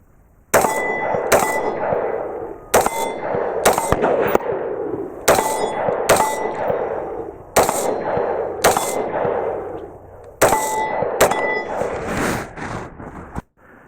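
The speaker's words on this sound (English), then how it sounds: "on an AR-15, this brass deflector works quite well, and it dropped everything right at my feet" An AR-15 fires strings of sharp, loud shots outdoors, with a KET brass deflector knocking spent casings down that ring and clatter with bright metallic clangs, several bursts separated by short pauses.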